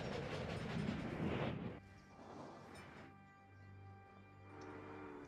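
Trains run slowly through a winter landscape in the railway strategy game Railway Empire, a steady rumbling rail noise with faint clickety-clack, first dense and loud, then thinning to a softer hum with occasional swells.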